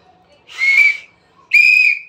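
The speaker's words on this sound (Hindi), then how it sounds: "कोई जैसे एक सीटी ले लिया" A toy whistle blown twice in quick succession, two shrill, steady tones of about half a second each with a short gap between, loud and close with no talking.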